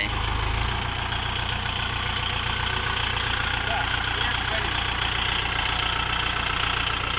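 The heavy engine of a Kubota L5018 tractor stuck in mud runs continuously and loudly, a rough, labored rumble that never lets up.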